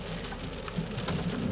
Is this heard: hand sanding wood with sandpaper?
no